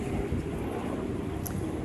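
Steady wind blows into the microphone, a constant low buffeting rush with no voices.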